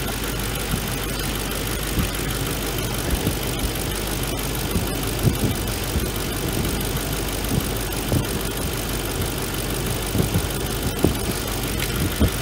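A Mercedes M113 V8 engine idles during EGR testing, a steady, close mechanical rumble with faint ticking and occasional clicks running evenly for the whole stretch.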